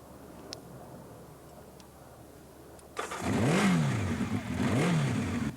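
A motorcycle engine, heard after a few seconds of quiet, starts and is revved twice in rising and falling surges, loud and close with no talking.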